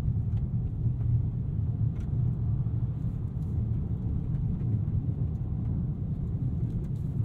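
A Ford Maverick Tremor pickup rolls along a washboard dirt trail, its cabin filled with a steady low rumble of tires and drivetrain, broken now and then by faint knocks.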